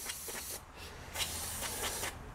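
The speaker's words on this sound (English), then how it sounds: "A little brake clean." Brake cleaner sprayed from an aerosol can during a cleanup, a few steady hissing bursts of spray with brief pauses between them, close and fairly quiet.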